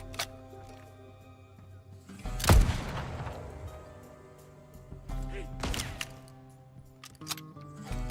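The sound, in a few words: gunfire in the video game Legend of California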